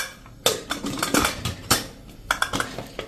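Metal clanks and clatters from closing a pressure cooker lid in a home kitchen while cooking khichdi, several sharp knocks and scrapes spaced irregularly, close by.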